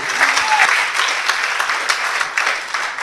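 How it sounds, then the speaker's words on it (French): A church congregation applauding during a pastor's sermon, loud sustained clapping from many hands filling the room throughout with a faint voice beneath. "Acclamons la parole du Seigneur si vous pouvez"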